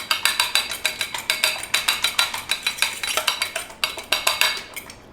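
A utensil quickly beats ingredients in a bowl, giving a fast, even run of close, bright clinks and taps, roughly three or four per second, heard alone without talk.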